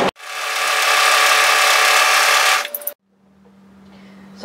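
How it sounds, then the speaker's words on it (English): An overlocker runs fast and steady for about two and a half seconds while sewing the long angled edge of a pocket piece for a cardigan, then stops with a few quick stitches and goes quiet apart from a faint hum. "find this long angled edge and overlock the edge of it"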